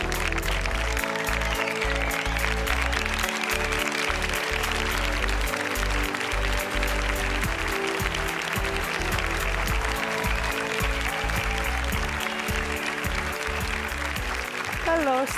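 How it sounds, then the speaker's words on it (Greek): A studio audience on a televised X Factor Greece chair-challenge stage claps steadily for a full stretch, dense sustained applause with a host's voice calling out over it. "Πάμε ένα δυνατό χειροκρότημα, παιδιά, για την Κυριακή"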